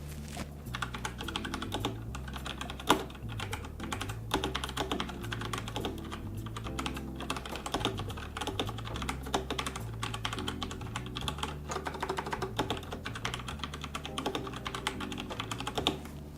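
Rapid, steady typing on a Razer mechanical keyboard with orange switches, crisp key clicks tapping continuously at close range with no voices.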